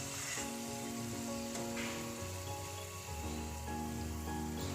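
Maida namakpare fry in hot oil in a kadhai, giving a steady, dense sizzle that runs without a break under a background hum with some tonal noise.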